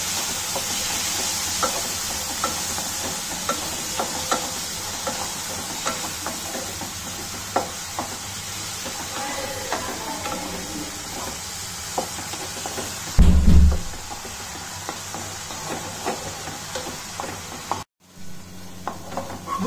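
Tomatoes cooking down into a puree in a pan, a steady sizzle with repeated scraping stirs throughout, a brief louder knock near the end, then the sizzle resumes close by with no talking.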